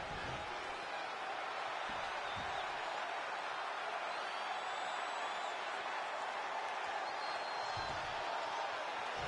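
An arena crowd in WWE 2K25 roars and cheers for a wrestler, a dense, steady wash of noise that holds evenly throughout, with a few dull thumps underneath.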